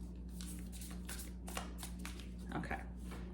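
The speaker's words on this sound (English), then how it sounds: "Okay, we're gonna shuffle them" Tarot cards being shuffled by hand in a series of soft riffling and tapping bursts, close and fairly quiet over a low steady hum.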